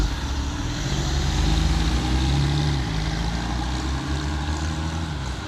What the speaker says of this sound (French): je vous passe l'extrait de l'accélération.